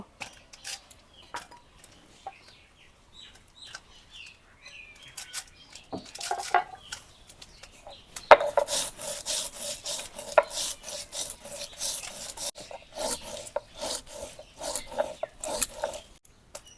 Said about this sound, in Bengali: ধনিয়া আর মহুরিটাকে একসঙ্গে বাইটে নিব।